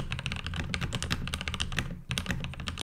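Rapid, steady keystrokes clatter on a custom-built, self-programmed mechanical keyboard, close and crisp, with one brief pause near the end and no talking.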